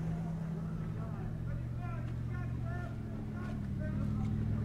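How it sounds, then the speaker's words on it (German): A motorcycle rides through a street, heard as a steady low engine drone that holds throughout, with a faint higher chirping over the top. "Das Motorrad, was gerade hier durch die Straße gefahren ist"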